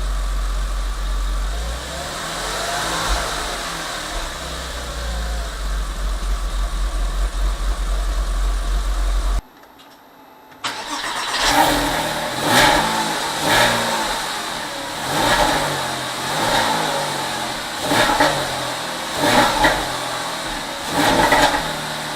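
A cold-started Porsche Boxster engine with an air intake mod runs steadily with a low hum, then after a brief cutout it continues with rhythmic pulsing revs and mechanical clatter.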